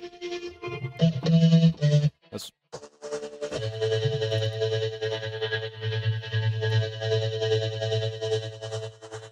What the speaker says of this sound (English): if I run a sine wave through it? What does that sound like? Well, it sounds like this.